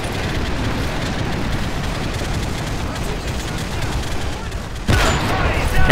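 Sustained machine gun fire in Call of Duty MW3 on a European siege map, a steady dense rattle of rounds throughout with a louder burst near the end, close and continuous.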